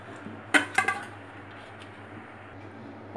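A plate set on a cake pan holding Goan tausali, then flipped over, giving a few quick clinks and clatters of metal and crockery close by, followed by quiet.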